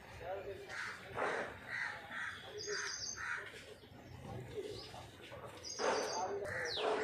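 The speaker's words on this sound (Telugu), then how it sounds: "పక్షుల కిలకిల రావాలు." Crows caw repeatedly amid chirping birds in a quiet green garden, the calls fairly faint and scattered over soft ambient noise.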